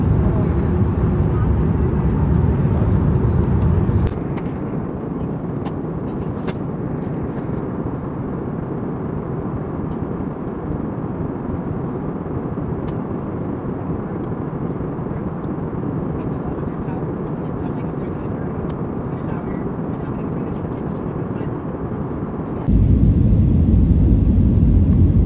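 Airplane cabin on a turbulent flight from Chicago to San Jose: a loud, steady broadband roar fills the whole stretch, shifting in tone once early on and again near the end.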